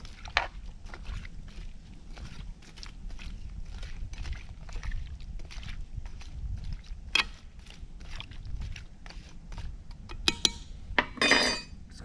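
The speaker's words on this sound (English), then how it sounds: "mix this bad boy up a little bit" A metal utensil stirs food in a pot over an outdoor wood fire, giving repeated scraping clinks and knocks at an uneven pace, close and fairly quiet, with a few sharper rattles near the end.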